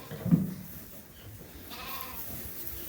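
Lambs bleat in a creep area pen on a farm, one short faint bleat near the start, then soft background shuffling and low barn noise.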